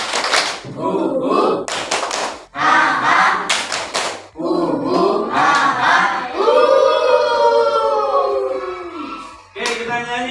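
A class of children does the Indian clap game, patterned rounds of hand claps broken by loud group chanting and whooping voices, near and lively, with a pause before a final clap burst.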